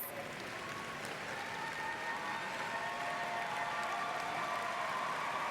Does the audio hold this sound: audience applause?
yes